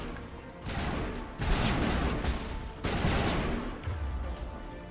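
Gunfire from the video game Mass Effect Legendary Edition rattles in dense, continuous bursts of rapid shots, loud and close, with brief swells of heavier blasts and no talk over it.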